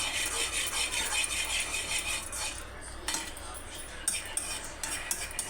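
Sweet mixture stirred and mixed in a pan, a steady close scraping and rustling of a spoon against metal with faint sizzle underneath, punctuated by a few sharper clinks toward the end.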